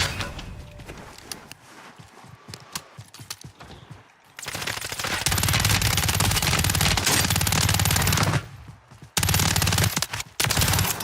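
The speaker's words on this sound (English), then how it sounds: "I needed every one of those 100 bullets to take him down." Video game machine gun fire bursts in long, loud, sustained automatic volleys that dominate most of the stretch, preceded by quieter scattered rattling and footstep-like clatter, with a brief lull before the firing resumes.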